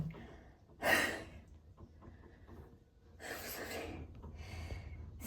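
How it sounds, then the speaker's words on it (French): Heavy, ragged breathing up close from a woman, with a couple of loud, breathy exhales standing out between quieter panting breaths. "Pourquoi je suis essoufflée comme ça?"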